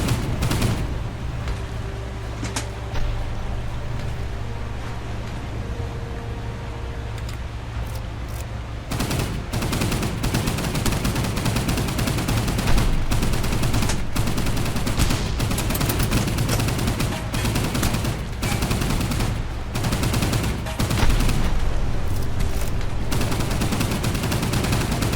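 Enemy destroyer gunfire in the Pacific naval game Boat Crew: sustained loud volleys and booming shots rolling over one another, dense and continuous, with a quieter stretch before the heavy barrage builds.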